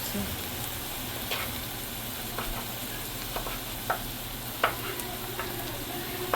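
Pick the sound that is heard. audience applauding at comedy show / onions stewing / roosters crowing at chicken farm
onions stewing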